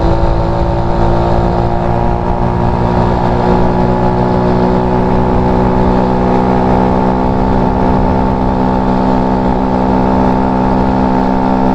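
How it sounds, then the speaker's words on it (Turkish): A Mondial 50cc moped engine drones steadily and loudly close by while climbing a slight hill, its pitch holding fairly even as it keeps pulling along without pause. "Şöyle biraz hızlanalım motor hiç gitmiyor zannetmesin kimse."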